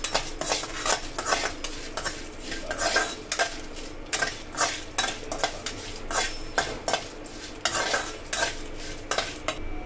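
Red chillies and cumin frying in a pan, a spoon scraping and clinking against the metal in repeated rhythmic strokes over a soft sizzle, close by.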